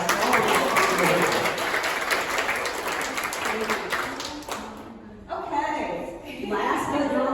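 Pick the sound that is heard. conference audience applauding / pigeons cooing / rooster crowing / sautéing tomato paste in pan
conference audience applauding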